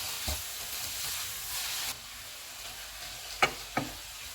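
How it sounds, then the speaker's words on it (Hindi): Garlic chicken sizzling in a pan with garlic chili sauce, soy sauce, lemon juice, black pepper and salt, a steady hiss broken by a few sharp clinks of stirring, with no talk. "अब इसमें गार्लिक चिली सॉस डालेंगे, सोया सॉस, नींबू का रस, काली मिर्च और नमक, और इनको 1 मिनट तक पकाएंगे।"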